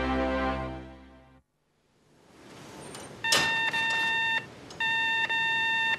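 A telephone rings alone with repeated electronic trill bursts, two long rings separated by a short gap, fairly loud and close, following a fading musical jingle.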